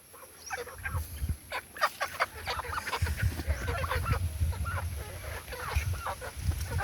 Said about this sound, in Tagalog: Ito yung manok natin dati na inalagaan.